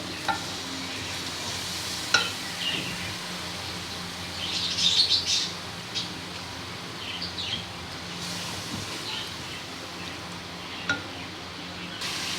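Masala with a stock cube and yogurt frying and stirred in a pan for chana kofta pulao, a low continuous sizzle with occasional spoon scrapes and clinks, a short flurry near the middle, and faint bird chirps in the background.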